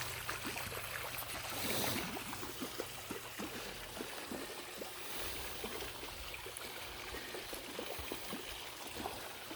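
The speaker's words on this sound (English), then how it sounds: "There's more noise coming from the water than there is the pump." Swimming pool filter pump running quietly while water splashes and trickles steadily, the water louder than the motor hum, constant and close with no talk.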